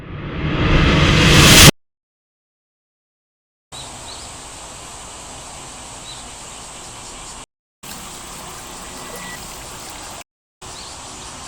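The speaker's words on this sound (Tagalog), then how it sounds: "Ulan na." Rain falls at an outdoor night rally at the People Power Monument on EDSA, a steady broadband hiss of drops that starts with a louder rushing burst, then continues evenly at moderate level with a few brief gaps.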